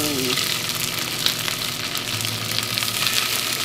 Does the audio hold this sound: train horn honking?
no